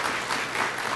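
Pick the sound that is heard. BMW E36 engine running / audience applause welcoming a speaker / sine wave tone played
audience applause welcoming a speaker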